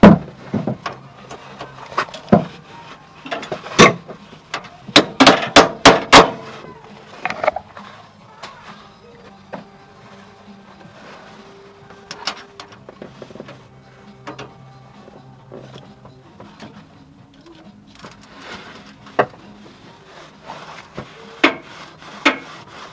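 A stud bolt remover works on the studs of an air-cooled VW engine in a Kubelwagen replica, giving close metallic clicks, rapid ratcheting bursts and scraping taps, then quieter intermittent knocks and rubbing.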